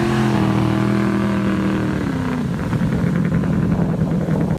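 A jet boat powered by a big block Chevy engine driving a Scott twin-stage sprint jet roars loudly and steadily, its deep engine tone climbing in pitch as it accelerates, then settling into a rough, throbbing drone.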